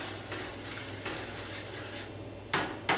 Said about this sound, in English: And then we're going to stir that